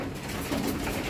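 Racing pigeons coo in a short, steady burst, fairly close and clear with no talking over them.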